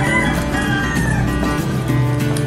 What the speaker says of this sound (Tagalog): Marami pong manok sa labas.